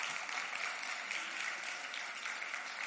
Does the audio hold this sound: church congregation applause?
yes